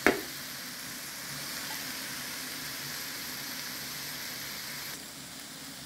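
A vegetarian stir fry of carrot and cabbage cooks in a pan over medium heat, a steady moderate sizzle after a short clatter at the start, easing slightly near the end, with no talking.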